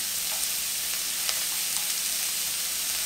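Onions sizzle steadily in a hot pan for noodles, a continuous bright frying crackle with occasional sharper pops, close and unbroken, with no talking.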